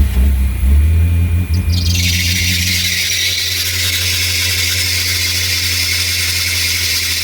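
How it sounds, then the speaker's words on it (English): A salvage Ferrari engine cranks over with a loud, high squealing chirp from its main accessory belt, a deep rumble underneath and the shrill belt noise rising after a couple of seconds and holding steady. "That loud chirping was coming from our main accessory belt here"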